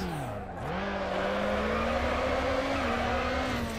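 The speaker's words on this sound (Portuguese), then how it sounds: "eu não consigo segurar por muito tempo o drift" Sustained car engine whine with tyre squeal as a car drifts and spins out in NFS Underground Definitive Edition, the pitch dipping briefly then holding steady and loud throughout.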